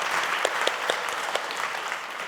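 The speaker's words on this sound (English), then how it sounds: "I would like to give you guys all a round of applause" Steady audience applause, many hands clapping together at moderate volume, with a few sharper individual claps standing out.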